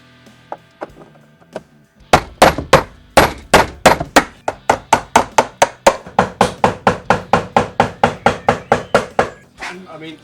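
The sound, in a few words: chiseling a hole in a car panel to fit a speaker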